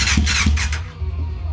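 A Yamaha FZR600 motorcycle that sat unused for more than 15 years cranks without choke, a loud close burst of starter whirring with a few rhythmic pulses over a low engine drone, fading to a rough idle-like rumble.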